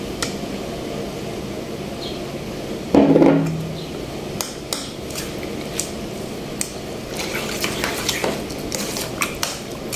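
Utensils stir and mix battered chicken in a pot, giving a soft squishing mass and a string of sharp metallic clinks and taps against the pot rim, close by, with one louder clatter early on.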